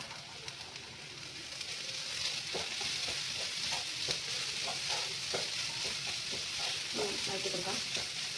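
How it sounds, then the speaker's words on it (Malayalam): Chopped capsicum sautéing in a frying pan for stuffed chapathi, a steady soft sizzle with intermittent scraping and stirring clicks from a utensil, fairly quiet and close. "അപ്പോൾ നമുക്ക് ഇതിലേക്ക് നമ്മൾ അരിഞ്ഞു വെച്ചിരിക്കുന്ന ക്യാപ്സിക്കം ആഡ് ചെയ്ത് കൊടുക്കാം."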